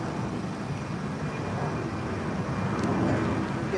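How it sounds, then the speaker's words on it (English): A plane flies over a backyard the day after the Fourth of July, its low continuous drone steady and moderately loud, with no voices heard. "Here comes the plane again"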